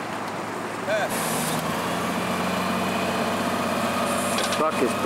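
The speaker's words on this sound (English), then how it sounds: "The truck is bracing itself now." A truck engine runs steadily on a 1987 summer construction site in Lehrbaum, New Hampshire, a low continuous drone with brief higher squeals and clanks around it.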